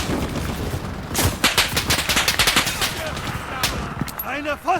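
Rapid gunfire in a shooter video game, dense bursts of sharp cracks and automatic fire crowding several seconds, with a voice speaking faintly beneath.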